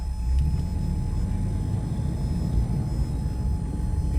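A truck hauling an excavator rolls past, a low steady rumble at moderate distance that holds evenly without any voices.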